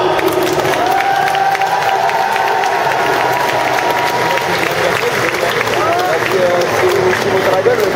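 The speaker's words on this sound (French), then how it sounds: "Mesdames et messieurs, on peut les applaudir bien fort." A Japan Expo wrestling crowd applauds and cheers loudly and continuously, with clapping, shouts and children's voices throughout and an announcer speaking over the noise.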